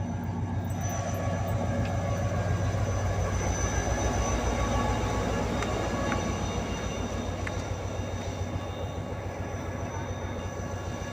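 An Awam Express passenger train hauled by a GU20 locomotive rumbles steadily for several seconds, the rolling noise of the rail cars continuous and fairly close.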